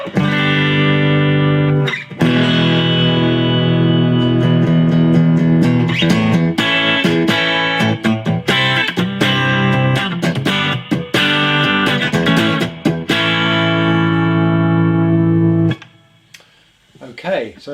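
Electric guitar on a home-built instrument, played clean through the bridge pickup with no reverb, ringing sustained chords and melodic runs loud and alone for about sixteen seconds before the final notes cut off.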